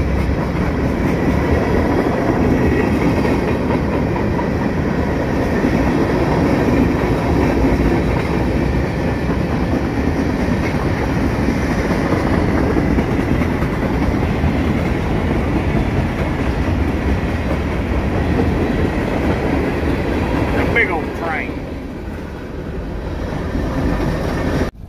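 Loud, continuous rumble of a train passing close on a railroad track, a steady heavy roar with faint rhythmic clatter lasting throughout and easing slightly near the end.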